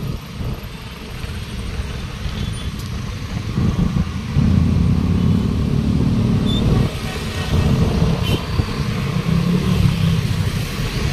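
Road traffic on Quirino Highway in Novaliches, a loud, continuous rumble of passing vehicles with engine drone swelling and fading, no voices.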